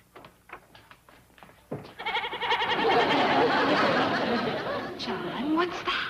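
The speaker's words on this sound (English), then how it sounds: "It's a goat" A goat bleats loudly and repeatedly at close range indoors in an old western TV sitcom scene, wavering cries that follow some brief clatter and carry on for several seconds.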